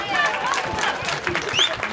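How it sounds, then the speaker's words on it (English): Wedding guests at a reception applaud and cheer after a best man's prompt, a dense wash of clapping and crowd noise with scattered whoops and chatter mixed through for two seconds. "You can clap."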